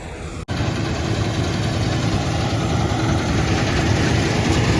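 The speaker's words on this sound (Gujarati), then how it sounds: "ટ્રેક્ટર પણ આવી ગયું" A tractor engine runs steadily at harvest time on a village farm, a loud, close, continuous mechanical drone with no talk over it after a brief cut at the start.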